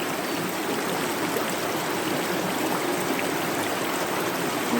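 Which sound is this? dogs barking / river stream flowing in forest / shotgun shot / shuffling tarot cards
river stream flowing in forest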